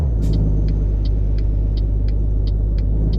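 A Peterbilt 379 truck engine in a truck driving game, a loud, steady low rumble with a regular ticking clatter above it, close and continuous, with no talk.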